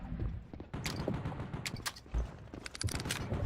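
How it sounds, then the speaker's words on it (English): Rifle fire from a Zastava in a Battlefield game street fight, with sharp cracks and bursts of shots scattered across a busy, noisy battle soundscape. "The sound of my rifle is music to my ears."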